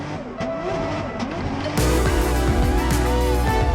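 A drift car slides around the track at an Irish Drift Series round, with a loud sustained engine roar and tyre noise that jumps sharply louder partway through and stays close and intense.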